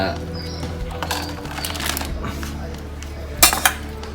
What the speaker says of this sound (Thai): ใส่น้ำมันลงไปผัดพริกก่อนเลยนะครับ